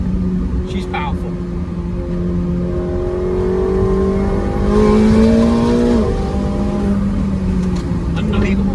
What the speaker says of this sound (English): You get those pops and bangs out of the exhaust. That's a newer thing on 750S